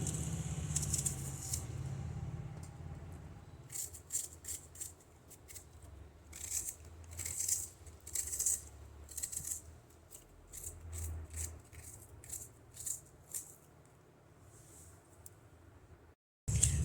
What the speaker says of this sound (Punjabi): ਹੁਣ ਆਪਾਂ ਪਿਆਜ਼ ਬਰੀਕ ਬਰੀਕ ਕੱਟ ਦਵਾਂਗੇ